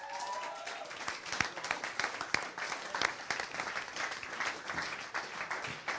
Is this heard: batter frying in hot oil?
no